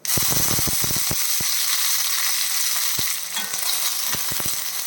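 Curry leaves crackle in hot oil with the flame switched off for a ridge gourd curry, sharp close pops and spits over a loud steady sizzle, with no voices.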